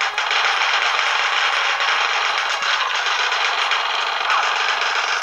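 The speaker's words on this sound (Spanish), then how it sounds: "Este rifle está muy guay." Sustained rifle fire from the video game Resistance: Burning Skies on PS Vita, a dense continuous rattle of rapid shots at close range and fairly loud, with no talking over it.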